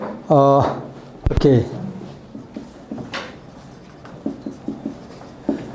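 Soft scratchy strokes of handwriting, a series of short marks following a brief burst of talk, close and faint in a quiet room.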